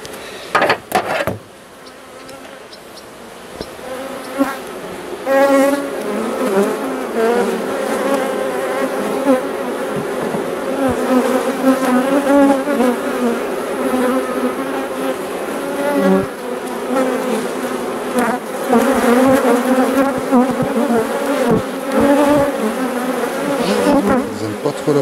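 Honeybees buzzing loudly and close at an open beehive during an inspection, a dense, continuous droning swarm with wavering pitch, plus a few sharp knocks from hive parts at the start.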